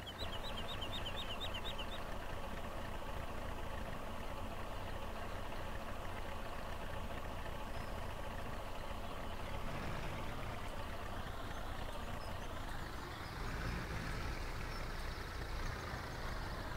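Tractor engines in the Farming Simulator 17 video game hum and idle continuously at a steady medium level, with a shift in engine tone partway through and no talking.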